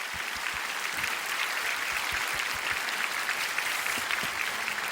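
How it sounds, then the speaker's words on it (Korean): A large audience at a prayer gathering claps in a dense, sustained round of applause that fills the room evenly. "박수 한번 주시면"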